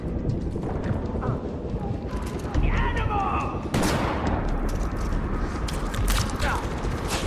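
Constant Far Cry 4 gunfire, dense overlapping shots and rapid bursts that never pause, loud and close, with shrill whooshing effects and a sharper volley partway through.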